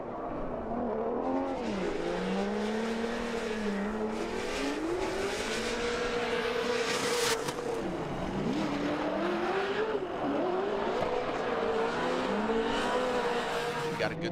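A Formula Drift car at a Grantsville, Utah pro competition holds its engine wound up near the limiter, a loud sustained wavering whine that dips and climbs with tire squeal mixed in, continuous for the whole stretch.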